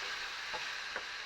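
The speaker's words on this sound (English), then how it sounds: "And then we're going to fry this off for 2 minutes" Faint, steady sizzle of finely diced, de-seeded jalapeno peppers frying in a pan, with a couple of soft stirring scrapes standing out against the hiss.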